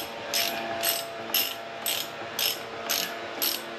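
Ratchet clicking in short bursts as it undoes a cylinder head stud on an Austin 7 engine, about seven quick, evenly spaced ratcheting strokes, close and fairly quiet.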